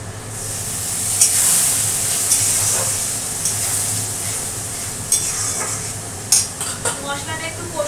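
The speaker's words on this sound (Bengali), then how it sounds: "মশলাটা একটু কষুক" Masala spice paste frying in a pan for a Bengali fish curry, giving a steady loud sizzle and hiss broken by a few sharp scrapes and clinks as it is stirred.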